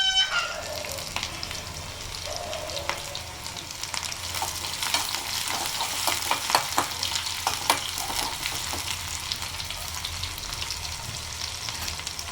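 Chopped onion sizzles and crackles in hot oil for a sambar tempering, a continuous bright frying hiss with occasional stirring, close and steady throughout.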